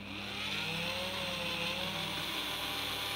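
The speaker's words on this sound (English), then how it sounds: "I'll turn my Dremel on." A Dremel 3000 rotary tool whines at high speed while engraving glass, a steady tonal buzz with a slight pitch wobble held for a few seconds, fairly close and alone without speech.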